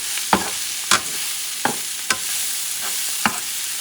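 Shrimp cook in a pan over medium heat under a soft, steady sizzle, with about six distinct spatula scrapes or taps spaced irregularly across it.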